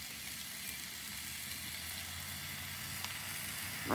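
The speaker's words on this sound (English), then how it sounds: "Just put a couple pieces of bacon down for her." Bacon sizzles in a frying pan as a faint, even hiss with occasional tiny pops, steady and quiet throughout, with a brief louder knock at the very end.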